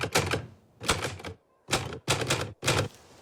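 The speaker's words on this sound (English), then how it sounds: "This is him typing up what happened here." A typewriter clacks in a scene from the WWII drama series Band of Brothers. Rapid, dense bursts of keystrokes come in four or five clusters with brief pauses between them, loud and close, with no talk.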